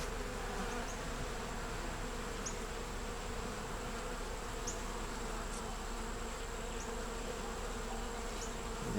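Bees buzz in a steady, dense drone on a hive frame with brood, honey and foundation, close and continuous throughout, with no talk.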